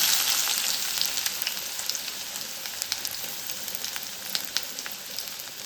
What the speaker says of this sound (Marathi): आता इथे कढईमध्ये मी थोडंसं तेल घेतलेलं आहे आणि एक बारीक चिरलेला कांदा एकदम बारीक चिरून घ्यायचा आहे